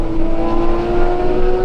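Mid-engine Porsche race car on the Nürburgring, a loud steady engine drone with a sustained tone heard briefly close by, no talking.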